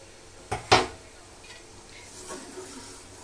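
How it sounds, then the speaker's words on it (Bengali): A cooking pot lifted off during night-time cooking while vermicelli is fried in ghee, two sharp close metallic clanks followed by faint rattles and quiet kitchen noise. "এখন হচ্ছে এই পাতিলটা উঠিয়ে আমি সেমাইটা ভেজে নেব, একদম ঘি দিয়ে সুন্দর করে ভাজবো।"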